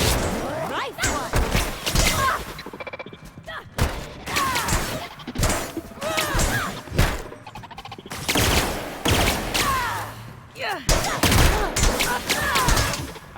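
Gunfire in The Outer Worlds: rapid bursts of shots and impacts crackle in clusters through a busy firefight, loud and close, with voices talking between the volleys.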